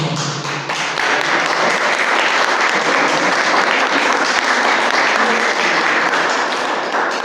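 Warm, sustained applause from an audience at an international analysis panel, dense and even clapping at steady loudness throughout with no talk over it.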